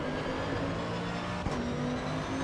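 Race car engine in Assetto Corsa Evo, the racing game, holding a steady high-pitched drone at speed with a brief sharp click midway, sounding alone without talk.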